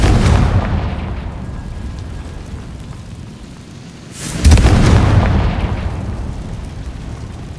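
A Confringo fire spell blasts in Hogwarts Legacy, with a loud explosive boom near the start and a second heavy burst midway, each followed by a rumbling, crackling decay.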